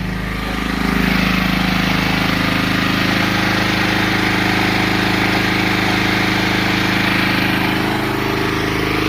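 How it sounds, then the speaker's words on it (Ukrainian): A 7 kW Dnipro generator engine running at an apiary, a loud, steady droning hum with a constant low rumble, close by and unbroken for the whole stretch, with no voices. "Знову довелось запускати генератор. Тепер покажу генератор."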